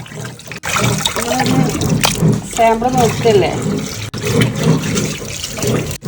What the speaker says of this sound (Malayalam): ചെമീനൊക്കെ നല്ല കഴുകി വൃത്തിയാക്കി കേട്ടോ